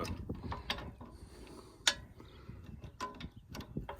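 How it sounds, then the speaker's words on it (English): A stuck ratchet wrench is worked on a Branson TYM 2515H tractor backhoe, giving faint, sparse metallic clicks and ticks at irregular intervals in a quiet setting. "This is a ratchet wrench, but it's stuck."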